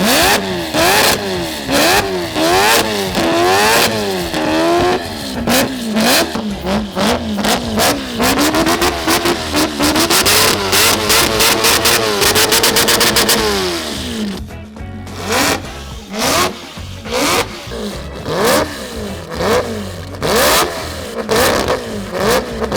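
A four-rotor rotary engine in a Volvo revs hard up and down in repeated rising and falling sweeps, loud and close, then after a brief drop it returns as sharp, choppy blips; no talking is heard.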